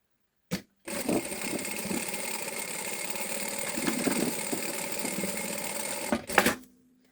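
A sewing machine stitches a seam at presser-foot width on a bag lining, whirring steadily and close for about five seconds after a brief click, then stopping with a final clack.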